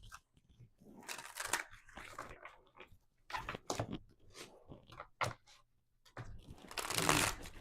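Oracle cards are shuffled in bursts of crisp riffling and papery slaps, close and fairly quiet, separated by short pauses.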